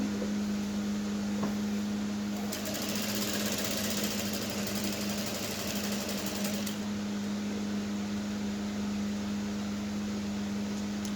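A sewing machine top-stitches a peplum blouse edged with horsehair braid, running as a steady close hum throughout and swelling into a louder, harsher whir for several seconds in the middle.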